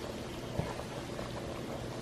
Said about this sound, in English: my noodles are boiling